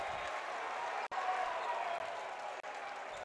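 Basketball crowd and student section at a high school boys game roar and clap loudly and continuously after a blocked shot, a dense wash of cheering with a few brief cuts.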